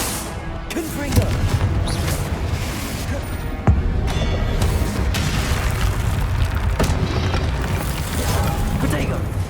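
Booming spell explosions from the Confringo spell in the video game Hogwarts Legacy burst amid continuous loud game noise, with sharp impacts and rumbling blasts while a voice shouts spell names.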